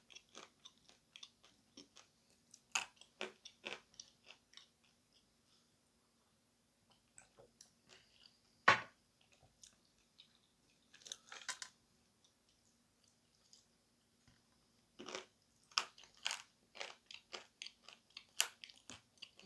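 Dried Ural clay chips crunched while eating, with sharp crisp bites and crackly chewing in clustered bursts separated by quiet pauses, close to the ear, with no speech.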